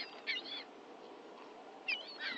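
Several birds give a few short, faint calls in two small bursts, set over a low background hiss.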